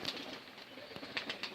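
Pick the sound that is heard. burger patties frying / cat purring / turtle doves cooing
turtle doves cooing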